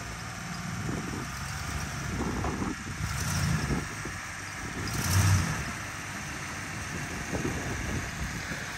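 Lexus GX470 with a fresh lift kit creeping up onto oil-change ramps outdoors, a low steady engine drone with mild revving swells and wind noise throughout.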